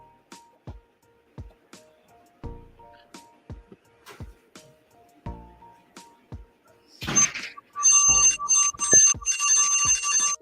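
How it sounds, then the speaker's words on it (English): A ringing bell sounds during a live online giveaway of silver and copper, preceded by a series of sharp isolated clicks and taps, then a bright, loud, rapidly repeating ring that continues to the end. "when you hear the ringing, stop your singing"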